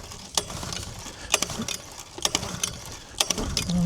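An old petrol engine that won't start is pull-started: several sharp, rattling yanks of the starter cord come at irregular intervals over a scratchy mechanical background, close and moderately loud, with no engine catching.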